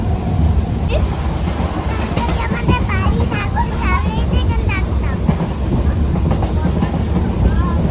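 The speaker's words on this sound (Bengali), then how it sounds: "কি ট্রেন যাচ্ছে" A train rolls past with a steady, continuous rumble and rattle, close and loud throughout, with faint voices mixed in.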